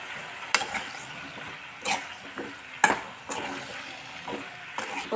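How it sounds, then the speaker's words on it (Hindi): A spoon stirs halwai-style spiced pumpkin curry with salt, red chili and turmeric in a pan, producing a steady series of close scraping strokes about a second apart over a soft sizzle. "इसे हम अच्छे से चला लेंगे।"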